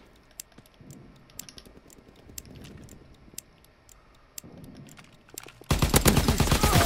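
Sharp gunshots from Call of Duty: WWII competitive multiplayer ring out as sparse isolated cracks, then break into a loud, dense burst of rapid fire near the end.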